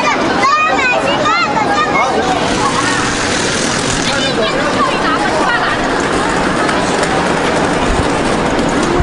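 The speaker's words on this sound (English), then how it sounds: "I'm taking a high-speed train." A Chinese high-speed train rumbles steadily with rhythmic clacking and rolling noise, with a murmur of voices in the background.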